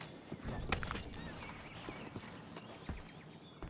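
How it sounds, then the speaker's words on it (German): Horse hooves clip-clop in the video game Red Dead Redemption 2, a soft irregular clopping of a horse walking at moderate distance, set against quiet outdoor ambience with faint birds and no talking. "Da ist ein Pferd, Mann."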